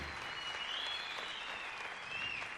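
Steady applause from an audience, dense clapping at moderate volume throughout with no pauses.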